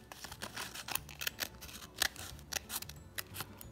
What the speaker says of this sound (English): when I do my trim with the shears